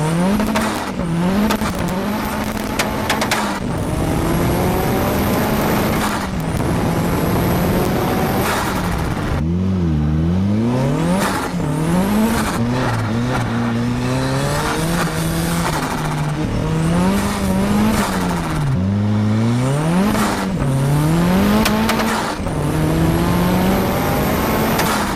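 A Locost kit car with a 343-horsepower engine drives hard, its engine note rising and falling through repeated acceleration, upshifts and braking for about 25 seconds, loud and close with no talking.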